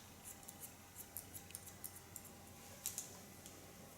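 Scissors snipping hair during a haircut, a series of faint, crisp clicks spaced irregularly over quiet room tone, with a pair of slightly sharper snips near the end.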